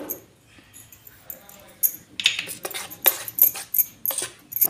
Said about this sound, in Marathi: आपण आता हलवून घेऊया असं.